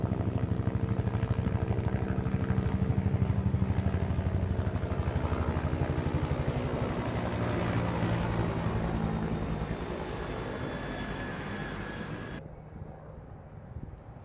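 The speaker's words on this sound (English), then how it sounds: "I think these were Coast Guard helicopters as well." A steady, loud engine drone from Coast Guard helicopters overhead rumbles continuously, then drops away abruptly near the end, leaving a quieter hum.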